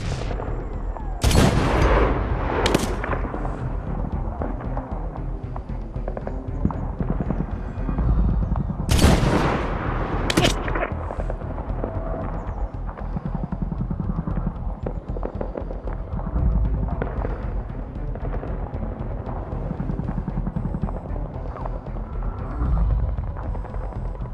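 Video game battlefield in Medal of Honor: bursts of rapid gunfire and loud rocket-launcher blasts crack out near and far, with booming impacts and a steady rumble between volleys.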